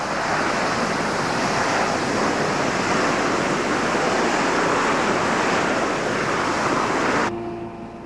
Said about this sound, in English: While it's hovering, the engine is at full power.